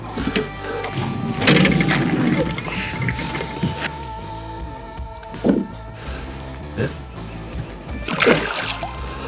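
Pike released back into lake water from a fishing boat, producing a couple of splashes and sloshing thumps near the hull, with brief talk and boat noise around them.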